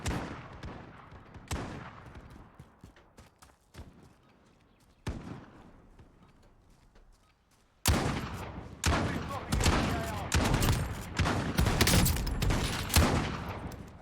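Video game gunfire: sharp isolated shots with decaying echoes at first, then loud rapid bursts of automatic fire dominating the second half, close and intense.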